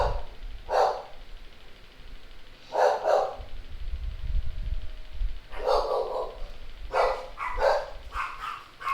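Several dogs bark in loud, close bursts, a pair of barks, then another, then a rapid cluster of barks, with low rumbling noise between them.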